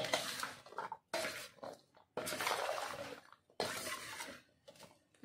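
Cauliflower pickle being mixed by hand with chili powder and salt, close-up bursts of wet squishing and scraping in four strokes separated by short pauses, no talking.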